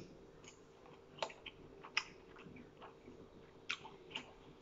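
Crunchy vegetables being chewed close up at a meal of ostrich fillet with mushrooms, soft irregular crunches and clicks at a quiet level with no talking.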